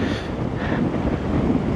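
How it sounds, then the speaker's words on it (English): Steady wind buffets the microphone with a low, rough rumble, constant and fairly loud throughout, outdoors at the Three Sisters, Glencoe, Scotland. "Oh, it's windy."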